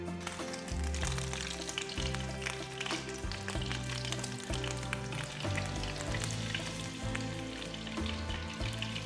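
Speckled trout cooking in a tablespoon of butter in a pan, giving a steady, dense sizzle and crackle that holds close and fairly loud throughout, with faint pops and no voices.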